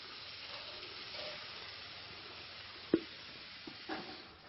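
Mustard sizzles in an omelet pan with a soft, steady frying hiss, faint and close, broken by a few small pops and clinks, with no talking.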